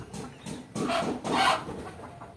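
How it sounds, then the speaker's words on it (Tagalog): Chickens cluck in short bursts close by, a few low throaty calls rising and falling with some farmyard background noise. "tignan muna natin ito bago tayo magpakain ng mga alaga natin na manok"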